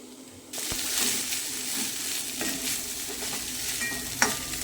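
Cooked rice is stirred into tomato masala frying in a pan for Kerala-style tomato rice, a steady close sizzle broken by occasional scrapes of the spoon.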